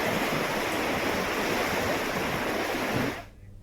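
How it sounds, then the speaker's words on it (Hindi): Monsoon floodwater rushing along a road in Maharashtra during heavy rain, a steady loud broadband roar of flowing water that cuts off abruptly near the end. "ये सड़क है जहां पर ये पानी बह रहा है"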